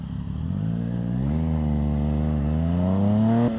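A loud motorcycle engine rumbling close by, its deep note rising as the throttle opens, easing off briefly, then climbing again in a strong continuous pull.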